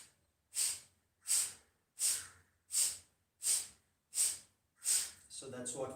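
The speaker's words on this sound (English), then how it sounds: "You have to flap, pull your stomach, pump your stomach inwards to exhale through the nostrils" Kapalabhati breathing: seven sharp, forceful exhales through the nostrils come at a steady rhythm of about one per second, close and clear, and a voice starts talking right after them.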